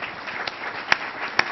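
An audience at a Columbus Metropolitan Club talk applauds, a muffled wash of crowd noise broken by a few sharp, isolated claps.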